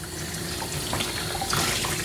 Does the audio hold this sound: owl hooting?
no